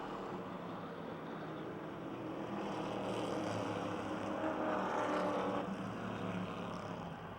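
Subway Street Stock race cars circle Motordrome Speedway, a distant, muffled engine drone that swells gradually toward the middle before easing off slightly.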